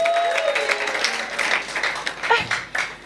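An audience claps through a church-style gathering, a steady broadband patter of hands that swells and dips over a few seconds, with faint voices and a brief tonal sound mixed in.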